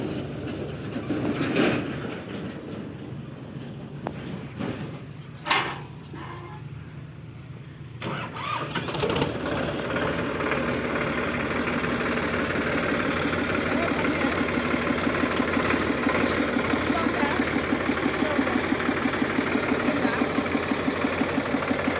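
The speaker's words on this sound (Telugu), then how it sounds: "మన ఊర్లో సంపత్రావుపల్లిలో ట్రాక్టర్ గ్రామ పంచాయతీ ట్రాక్టర్ వాటర్ నీళ్ళు కొడుతున్నది." A gram panchayat tractor watering trees in Sampatraopalli village: after some faint sounds and a couple of sharp knocks, its engine settles into a loud, steady rumble with a throbbing idle beat that runs to the end.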